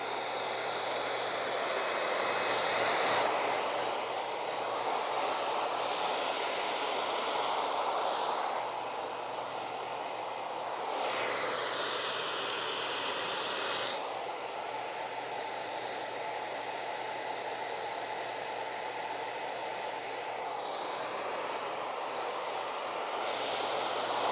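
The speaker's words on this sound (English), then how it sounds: "Using my blow dryer to showcase any bad hairs." A blow dryer roars steadily and close while drying hair after a haircut, its airflow shifting in pitch and intensity as it moves, running continuously with no talking.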